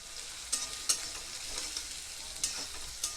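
Chopped onion frying in hot oil with a large cardamom and bay leaf in a pan, a steady soft sizzle broken by a few sharp scraping stir strokes, close and fairly quiet with no talking.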